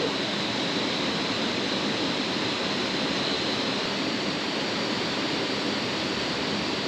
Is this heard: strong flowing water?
yes